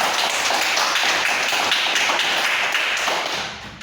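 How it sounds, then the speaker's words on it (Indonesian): A classroom of schoolchildren applauding together, a loud, dense wash of rapid clapping that holds steady for a few seconds before easing off. "tepuk tangan semua"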